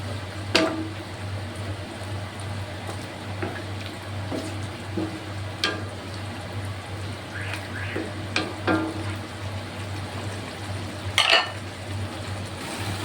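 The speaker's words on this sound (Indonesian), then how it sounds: "Oke, kita masak sampai sayurnya matang" Bitter melon leaves and cassava leaves with chicken simmering in a pan, a low steady bubbling hum with scattered utensil clinks and scrapes, one sharper clatter near the end.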